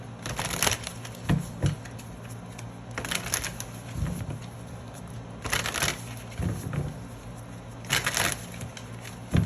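Tarot cards being shuffled and drawn, with bursts of crisp riffling and slapping at regular intervals over a steady low hum, close and fairly quiet, with no talking.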